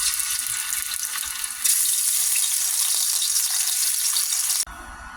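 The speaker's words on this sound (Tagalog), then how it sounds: "Prituhin muna natin yung mga isda." Fish frying in hot oil for a Filipino garlic fish dish, a steady dense sizzle and crackle that jumps louder partway through, then cuts to a quieter, softer hiss near the end; no voices.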